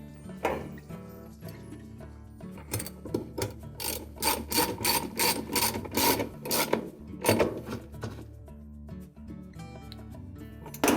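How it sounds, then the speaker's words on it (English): Ratchet tightening the bolt on a Whirlpool washer agitator during an auger post replacement, a rapid run of loud rasping clicks in bursts, close and alone. "And then we'll tighten the bolt."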